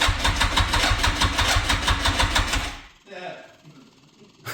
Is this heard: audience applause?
no